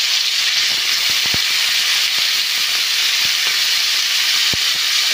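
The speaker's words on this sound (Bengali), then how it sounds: "প্রথমে চিংড়ি মাছগুলো ভেজে নিচ্ছি।" Prawns fry in mustard oil in a pan, giving a loud, continuous close sizzle with scattered sharp pops and crackles and no talking.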